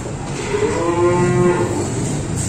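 A single cow moos at a cattle market where calves are sold, one loud, drawn-out bellow close by over a busy background.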